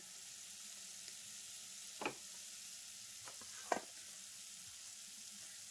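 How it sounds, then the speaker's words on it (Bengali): Lachha nimki, a flaky layered snack, frying in hot oil; a soft, steady sizzle sits low under two brief scraping clinks of a utensil against the pan. "নেক্সট নিমকিগুলো বানিয়ে আবার আমি তেলে ভেজে নিচ্ছি।"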